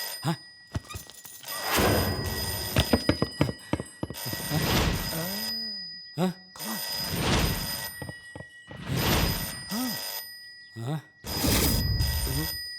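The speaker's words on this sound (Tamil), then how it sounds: "எல்லாரையும் பார்த்தது போதும், ஃபோன் அடியா." A telephone rings in a Tamil comedy film scene, sounding in repeated loud bursts with short gaps between them, mixed with voices.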